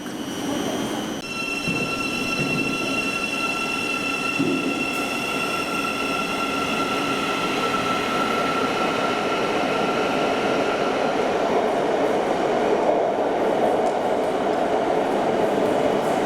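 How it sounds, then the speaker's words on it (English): A train climbing into tunnels near London King's Cross rumbles steadily along the rails with sustained high-pitched wheel squeal and occasional clatter, loud and close throughout. "you notice the train is climbing up into the canal tunnels"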